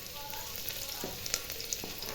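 Mustard seeds sizzle and crackle in hot oil for baby khichdi, a steady frying hiss with scattered small pops, fairly faint and with no talking.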